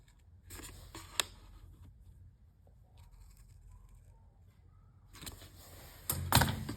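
Scissors snipping paper while making a pop-up gift card envelope, with a few sharp close cuts early on, a quiet gap, then another burst of snips near the end.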